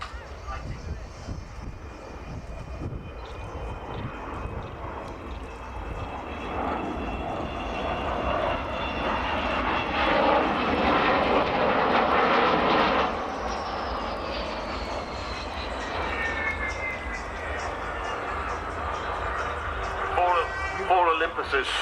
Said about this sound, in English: Four Olympuses spooling down there as they take the power off